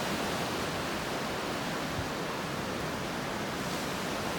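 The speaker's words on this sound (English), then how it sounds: "just let you listen to the waves" Ocean surf rolls onto a beach in North Naples, Florida, a dense continuous wash of broadband noise that stays steady and close throughout without voices.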